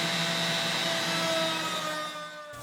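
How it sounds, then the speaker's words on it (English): Handheld router cutting juice grooves into a wooden barbecue tray, a loud steady high-pitched motor whine with cutting noise that holds for over two seconds, then drops away sharply at the end. "using a handheld router to do the juice grooves in this barbecue tray"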